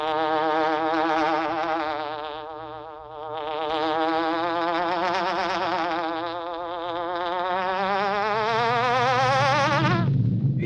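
A buzzing hornet sound effect from an old radio show drones loud and wavering, rising and falling in pitch continuously for about ten seconds, alone and without talk.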